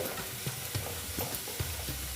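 Chili powder and spices are stirred in a frying pan for a restaurant-style Afghani egg curry, with soft scraping strokes repeating over a steady low sizzle.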